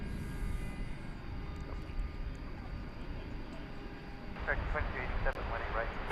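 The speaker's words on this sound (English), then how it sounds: "Clear takeoff." Jet airliner taking off from a runway at DFW Airport at night: a steady, broad roar of engines from a distance, with a person talking over it for part of the time.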